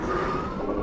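A steady, close electric whine rises from the rear motor of a dual-motor Amyet S8 AWD electric scooter on a sidewalk ride, with a constant pitch and no pauses.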